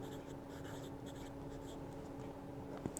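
Medium-nib fountain pen inked with Kaweco Ruby Red writing on CVS Caliber paper, a steady close scratchy scribble of nib on paper running throughout with faint strokes and a small tap near the end.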